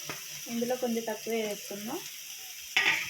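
Chopped onion and tomato frying in a pan for gongura curry, a steady soft sizzle with a sharper scrape of stirring near the end, under a woman's speech.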